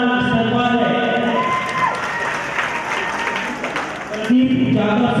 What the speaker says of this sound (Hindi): मैं इनका भी 2000 तालियों के साथ स्वागत करता हूं।